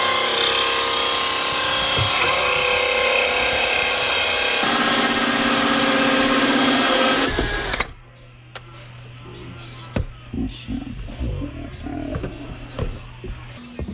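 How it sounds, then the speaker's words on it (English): A loud, steady power drill whir driving screws back in runs for about eight seconds and then stops, followed by quieter scattered clunks and rubbing sounds. "We'll drill that back in."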